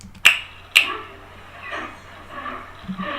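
Two sharp hand claps, used to sync audio with video, crack close to the mic about half a second apart, followed by faint background noise.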